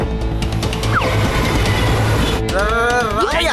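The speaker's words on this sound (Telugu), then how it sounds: "ట్రైన్ వచ్చేస్తుంది కదా సార్" An animated cartoon train draws near with loud, continuous clattering wheels and rail noise, followed by rising and falling tonal squeals toward the end.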